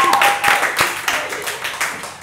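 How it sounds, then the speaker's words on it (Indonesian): Studio audience applause for Nessie Judge on an Indonesian talk show, a dense burst of clapping that rises quickly and then tapers off gradually, fairly loud and close, with faint voices underneath. "berikan tepuk tangan sekali lagi untuk Nesi Judge"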